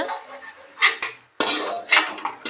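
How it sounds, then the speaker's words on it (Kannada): Fried bitter gourd pieces being moved onto a plate in a home kitchen, with a few close scraping and clinking strokes of a utensil against a pan and dish, separated by short pauses. "ಈ ಹಾಗಲಕಾಯಿನೆಲ್ಲ ಒಂದು ಪ್ಲೇಟಿಗೆ ತೆಗೆದಿಡೋಣ"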